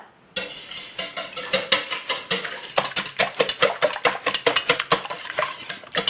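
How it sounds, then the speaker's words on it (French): Eggs and salt are whisked in a bowl, a rapid, rhythmic clatter of the whisk against the bowl that starts abruptly and continues steadily and close. "Fouettez les œufs et le sel."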